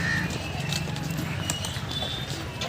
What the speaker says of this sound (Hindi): घोड़ा गाड़ी जा रही है,